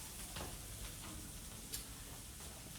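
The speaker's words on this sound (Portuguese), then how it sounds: "Enquanto o alho vai refogando aqui" Garlic sautéing in a pan, a faint, steady sizzle and crackle of frying with occasional soft ticks, quiet and continuous without speech.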